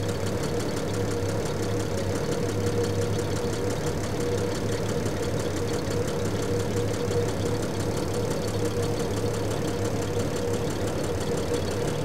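A Triumph TR6 engine with mechanical fuel injection idles close by, holding a steady, even rumble throughout with no voices over it.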